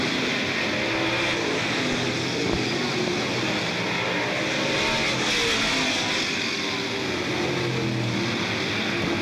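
Sportsman race cars roar around Smoky Mountain Raceway with five laps to go, engines droning loudly and continuously as the field runs into turn three, under a track announcer's commentary.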